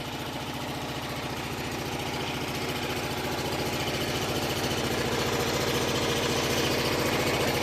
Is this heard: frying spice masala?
no